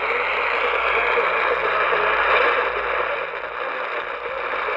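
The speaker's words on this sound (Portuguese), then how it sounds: "Hoje a gente tá com muita interferência aqui." Steady broadband hiss and crackling static on a Motobrás Dunga VII portable radio built on the Si4825-A DSP chip, with heavy interference filling the signal continuously and no speech.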